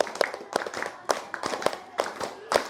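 A class of students claps in a rhythmic five-beat pattern during a lesson, sharp hand claps arriving in quick groups with a little chatter between them.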